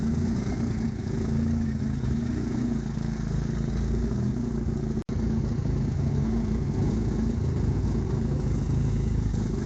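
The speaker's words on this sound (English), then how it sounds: "That's the Gaz 14 CHAIKA, a real limousine." Engine of a 1977 Soviet GAZ 14 Chaika black limousine, a steady, fairly loud low rumble held evenly throughout, broken by one very brief dropout midway, with no talking.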